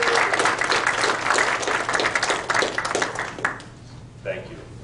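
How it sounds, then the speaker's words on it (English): An audience gives a loud round of applause for a special guest at a sports business presentation, dense clapping that holds steady for several seconds before tapering off, with a voice briefly audible near the end. "Very loud round of applause for our special guest."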